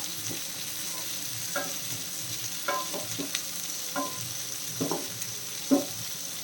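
Onion chicken fries in a pan and is turned repeatedly, a continuous soft sizzle punctuated by a series of distinct clacks and scrapes from the spatula, close and without speech.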